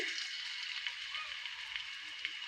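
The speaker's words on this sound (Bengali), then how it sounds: "তেলটা গরম হয়ে গেছে রসুনটা দিয়ে দিচ্ছি" Garlic dropped into hot oil in a pan sizzles and crackles in a steady, fairly soft hiss, with faint pops, heard close and alone.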